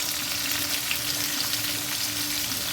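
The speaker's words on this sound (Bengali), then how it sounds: "পেঁয়াজগুলো বেশ ভাজা ভাজা হয়ে গেছে।" Chopped onions frying in a pan for a Golbari-style kosha mangsho, giving a steady, close hiss and crackle of sizzling oil that runs unbroken with no voices.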